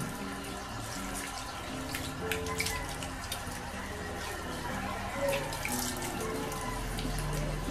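Water runs steadily from a tap in a quiet indoor space, a soft continuous splash with faint scattered background sounds and no talk.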